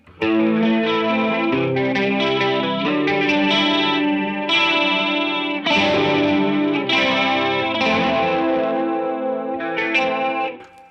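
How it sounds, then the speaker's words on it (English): Clean electric guitar strumming chords with a shimmering, wavering chorus effect, played steadily and loud with no voices. "And then a great chorus sound."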